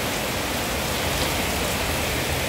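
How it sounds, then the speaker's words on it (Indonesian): Heavy rain pouring down steadily outdoors in Cikarang Barat, Bekasi, a dense continuous hiss of water striking surfaces, loud and unbroken with no voices. "Guys, hujan deras banget,"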